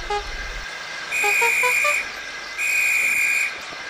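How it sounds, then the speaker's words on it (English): A railway guard blows his whistle: two long, shrill, loud blasts with a short gap between them, after a few brief chirpy tones. "The guard blew his whistle till he had no more breath"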